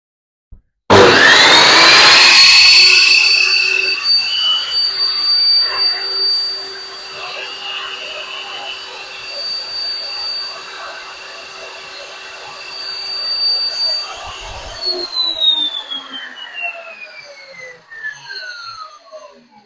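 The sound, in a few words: Total table saw running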